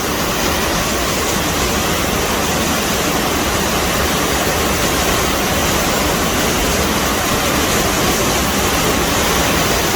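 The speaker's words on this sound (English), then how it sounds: "With the water pounding and stuff" Banias Waterfall pounds into a deep rock pool, a loud, steady, unbroken roar of rushing water with no voices over it.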